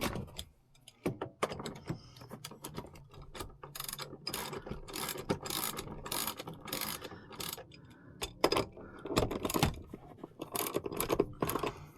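A ratchet wrench loosening the rear seat mounting bolts in a Toyota 4Runner, with rapid close clicking pawl runs in repeated bursts and short pauses between them.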